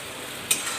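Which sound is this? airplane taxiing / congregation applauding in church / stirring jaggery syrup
stirring jaggery syrup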